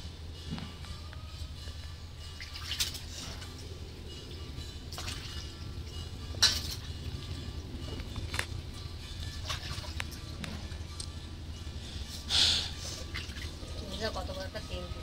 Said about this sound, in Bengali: মাছটা আমি ধুয়ে নিচ্ছি।